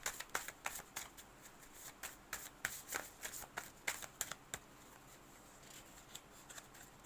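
Tarot cards being shuffled for a reading, a run of crisp riffling flutters and taps, close and moderately quiet, trailing off near the end with no speech.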